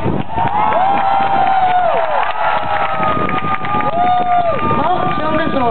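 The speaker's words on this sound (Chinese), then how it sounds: "哎，给我们一点掌声。" Crowd cheering and applause at an outdoor ocean music festival concert in 2010 during an encore, a steady roar of voices and whistles that fills the whole stretch without a break.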